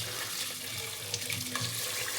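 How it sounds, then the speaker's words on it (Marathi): Tap water runs steadily into a bowl while ration rice is rinsed by hand, with soft splashing and swishing of grains under the continuous flow. "स्वच्छ धुवून घ्यायचे जोपर्यंत व्हाईट रंग येत नाही तोपर्यंत."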